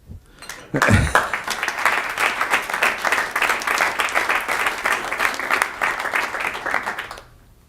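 An audience at a 1 Million Cups startup pitch event in Kansas City breaks into full applause. A sharp start gives way to dense, sustained clapping for about six seconds before it fades quickly.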